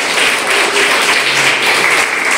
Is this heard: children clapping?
yes